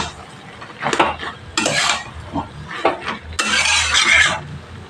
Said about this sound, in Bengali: চচ্চড়িটা শেষের দিকে একটু খুন্তি দিয়ে ঘেঁটে দিলে হয়ে যাবে।